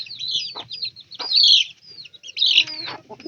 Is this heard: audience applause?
no